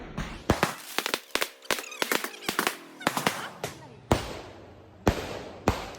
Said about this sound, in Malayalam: ചെറിയ തോതിലുള്ള കരിമരുന്ന് പ്രയോഗങ്ങൾ